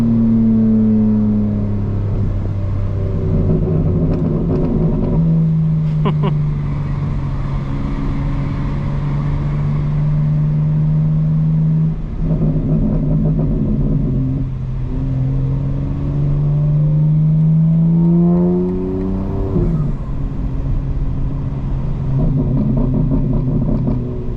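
A 2025 BMW M4 Competition xDrive's engine revs loudly from inside the car while driving, its pitch climbing and falling through repeated pulls and shifts across the whole stretch.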